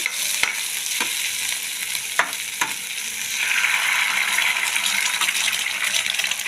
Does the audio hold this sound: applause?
no